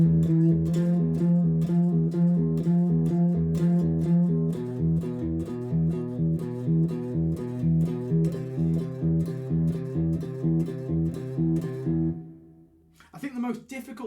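Distorted electric guitar plays a metal riff with a steady chugging, palm-muted rhythm for about twelve seconds, then cuts off into a brief scrape of noise.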